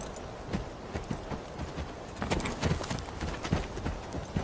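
A horse trots with a rider aboard, the hooves striking in a quick, steady clip-clop rhythm close by that grows a little louder midway, with no talking.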